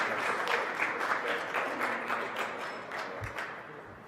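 A crowd at a government infrastructure announcement applauds, many hands clapping in a full, even patter that eases off slightly toward the end.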